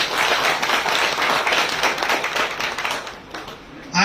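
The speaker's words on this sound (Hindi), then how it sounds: "मैं चाहूंगा एक बार जोरदार ताली बजाइए।" Audience applause at a company training event, a dense, steady wash of many hands clapping close by for about four seconds, easing off near the end.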